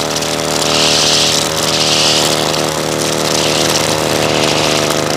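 A string trimmer cutting grass around an uneven lawn, its small engine droning loud and close in a steady high buzz with slight swells as the line bites into the grass.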